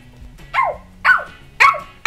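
Three loud, close barks in steady succession, each a short yappy bow-wow, with a brief fourth yip cut off at the end, heard during Barbie doll play with toy dogs.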